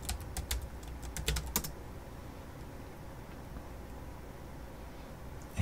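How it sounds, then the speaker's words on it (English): A burst of quick key presses on a Mac computer keyboard as a password is entered, close and fairly soft, followed by quiet room tone. "So I have to put in my computer password here again."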